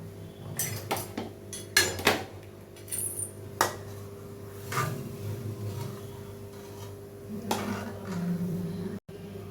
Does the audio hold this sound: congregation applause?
no